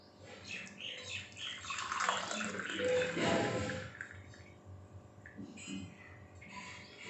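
Boiled turmeric and ginger tea is poured through a strainer, giving a soft, close splashing trickle that swells in the middle of the clip and then tapers off, with faint speech in the background.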